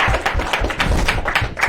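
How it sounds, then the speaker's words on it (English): Several students in a classroom clap together in a short, dense burst of applause, loud and close, with no speech. "Let's do a round of applause"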